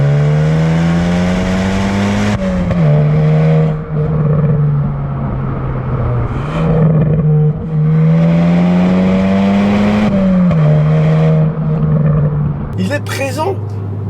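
A Hyundai i20 N hot hatch roars hard while driving, its engine climbing through the revs in repeated pulls with brief dips at each gear change, loud and close inside the car, with a short crackle near the end.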